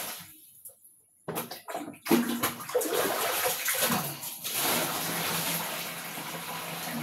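A bedsheet is hand-washed in a basin of water: after a quiet start, bursts of sloshing and splashing give way to steady swishing and running water, close and fairly loud, with no talking.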